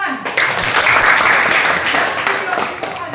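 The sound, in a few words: applause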